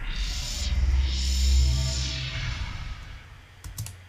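A Foley sound effect with a fully wet, bright cathedral-style reverb applies a long washing, diffuse tail that swells and slowly fades, with a few faint clicks near the end.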